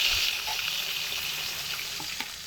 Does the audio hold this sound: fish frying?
yes